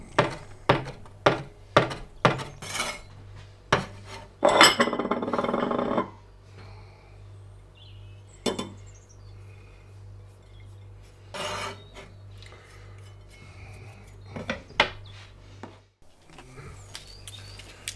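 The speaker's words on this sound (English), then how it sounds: "just break the leaves off and then chop up the leaves" A knife chops herb leaves on a cutting board in a home kitchen, giving a run of quick, close, crisp taps followed by a short rasping scrape, then sparser single cuts over a low steady hum.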